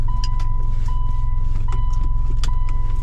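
A Subaru car with an EJ25 engine runs on a test drive, giving a steady low rumbling drone with faint clicks and a thin constant whine, heard from inside.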